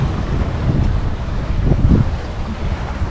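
Gusty wind buffets a microphone aboard a sailboat at sea in swell, a loud, steady rumbling roar with brief surges of gusts, no talking.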